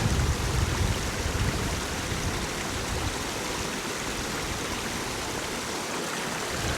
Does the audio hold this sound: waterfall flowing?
yes